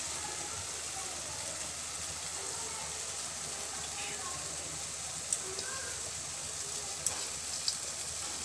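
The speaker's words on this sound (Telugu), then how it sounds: "రైస్ నేను వేసేస్తున్నాను అండి." Rice added to a hot pan for pudina rice, a steady even sizzle of frying throughout with a few faint clinks near the end, while a voice speaks softly over it.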